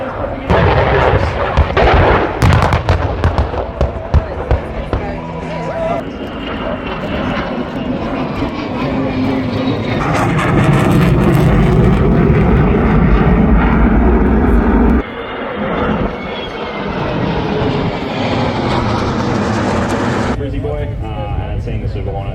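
A military jet makes a simulated straight pass at the Avalon Australian International Airshow, a long, loud, roaring engine sweep with sharp popping bangs near the start. The roar swells to a peak midway, breaks off abruptly, then rumbles on.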